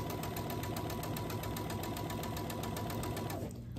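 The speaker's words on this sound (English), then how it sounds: "stitch on this side of the line at 1/4 inch" A sewing machine stitches quilt block pieces at a quarter-inch seam in a fast, steady run of rapid mechanical pulses, close and continuous, before stopping abruptly at the end.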